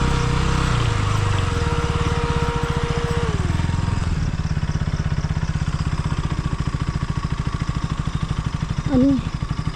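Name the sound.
new motorcycle engine starting and running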